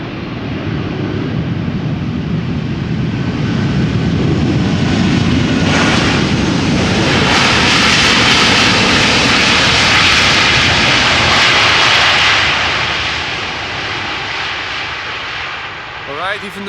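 A Boeing 747 nicknamed the Queen lands at Amsterdam Schiphol, its engines roaring loudly in reverse thrust. The roar swells to a sustained, broadband blast, then tapers as the jet slows.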